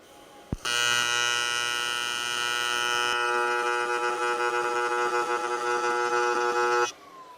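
An aluminum TIG weld with a CK Worldwide CK230 water-cooled torch gives a steady, loud electric buzz that starts abruptly, holds for about six seconds and then cuts off.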